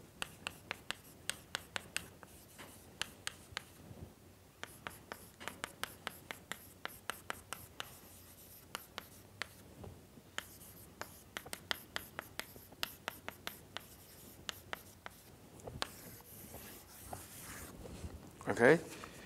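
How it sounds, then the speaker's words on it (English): Chalk or marker writing on a board during a doctoral numerical methods lecture, a series of sharp taps and short scratchy strokes in irregular clusters, fairly close, with quieter stretches between bursts. "let me write this in a very simple way."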